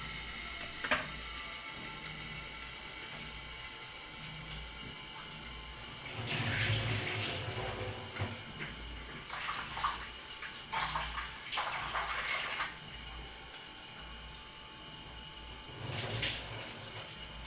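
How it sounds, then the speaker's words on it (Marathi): Barnyard millet being rinsed in water in a home kitchen, with soft, quiet swishing and splashing that comes in a few short bursts over a low, steady background. "अशा प्रकारे आता 2 पाण्याने ही स्वच्छ धुवून टाकलेली आहे"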